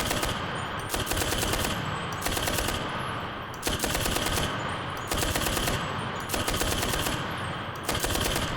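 Short bursts of automatic rifle fire from the video game Enlisted, each loud, rapid volley of a few shots separated by brief pauses, repeating steadily with no talking.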